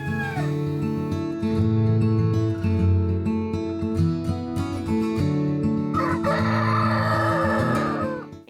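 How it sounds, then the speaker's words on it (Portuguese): Ornamental free-range chickens cluck continuously at close range, a dense busy flock, with a rooster's long crow rising clearly near the end. "viemos para conhecer uma criação de galinhas. Só que elas são diferentes. Essas daqui são ornamentais."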